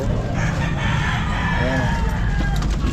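A rooster crows at a pet market, its rising call sitting close over a steady bed of crowd noise and background chatter.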